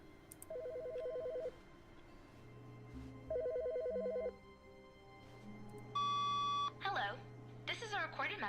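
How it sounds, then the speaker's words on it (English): A desk telephone rings in an office in The Stanley Parable Ultra Deluxe game, sounding as two separate repeating electronic trill bursts over a steady low background hum, followed by other tonal game sounds. "phone ringing"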